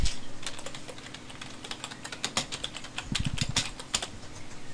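Someone typing a command on a computer keyboard while playing Minecraft, with rapid, close, uneven key clicks in bursts and a few heavier thumps.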